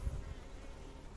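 Honeybees buzz steadily at a hive during queen rearing, a soft continuous hum close by with a faint low rumble, lasting only a moment and with no talking.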